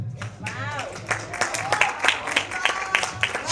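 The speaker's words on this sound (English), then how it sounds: "Big round of applause one more time for Parul" An awards-ceremony audience breaks into applause for a winner, clapping in quick, close bursts after a brief spoken voice, with talk continuing over the claps.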